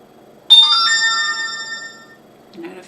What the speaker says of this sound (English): Notifications are going off.